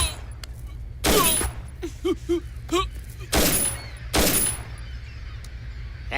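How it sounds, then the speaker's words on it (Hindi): Gunfire in a Hindi dubbed action film: several loud sharp shots in quick bursts, separated by short gaps, with faint honking-like cries between them. "गोली चलाओ।"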